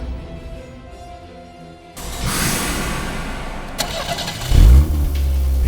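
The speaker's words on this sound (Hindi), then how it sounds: "इंजन की आवाज?" A car engine cranks and catches at about the four-second mark, then settles into a steady, loud, close running rumble. Before that, a quieter stretch is followed by a burst of broadband noise.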